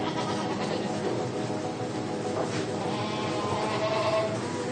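A dairy goat on a farm bleats repeatedly in wavering, nasal cries that run steadily through the clip, close and fairly loud, with no talking.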